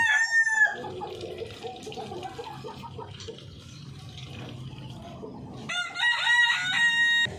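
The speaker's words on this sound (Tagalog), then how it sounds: "So ito yung rooster natin na darag mga Pinoy, pinagagaling natin." A Darag rooster, a native Filipino chicken, crows nearby with a bright, strained call at the start and again at the end. Softer clucking and farmyard murmurs fill the gap between the two crows.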